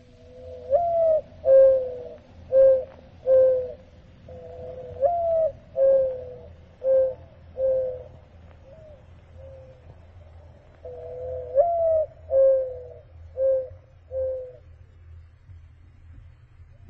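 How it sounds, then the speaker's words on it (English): A mourning dove coos in a slow repeated pattern, several soft hooting notes per phrase, fairly close against a low steady hum, with a pause before the call resumes. "The voice of the mourning dove for me."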